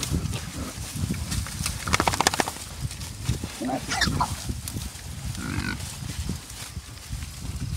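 Pigs grunting and snuffling nearby while grazing a homestead paddock, amid rustling and movement, with a person talking over much of it.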